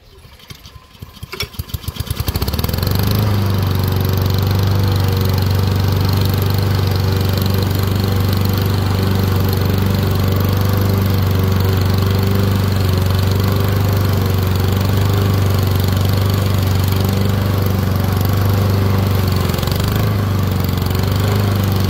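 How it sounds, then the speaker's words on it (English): Honda HRX217 gas lawn mower starting up and then running steadily with a loud, close engine drone while self-propelled at its slowest setting, cutting and bagging grass. "we are gonna go ahead and do self-propel at the slowest setting with the Honda."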